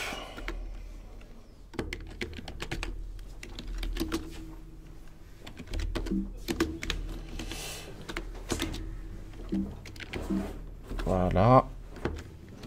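Typing on a computer keyboard during a C programming session, with quick bursts of key clicks and someone speaking in French over them at moderate volume.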